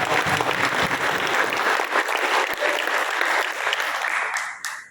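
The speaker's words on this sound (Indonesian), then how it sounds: "saya ingin mengajak semua yang hadir di sini untuk tepuk tangan bersama" At a school event for a vocational culinary class, an audience claps together in a loud, dense burst of applause that holds steady for several seconds, then tapers off quickly at the end.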